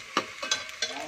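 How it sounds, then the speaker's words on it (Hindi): Onion and green chillies fry in a pan, making a brief close sizzle with a few quick stirring scrapes. "इसको हमने लाइट सा पिंक का करना है मिर्च प्याज को।"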